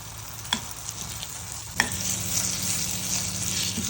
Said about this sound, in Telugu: ఇలా రెండు వైపులా ఫ్రై చేసుకోవాలండి